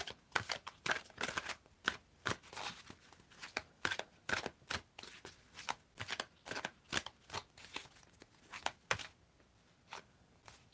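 Tarot cards shuffled by hand in a steady run of crisp, rhythmic riffling strokes, close up and continuous for several seconds.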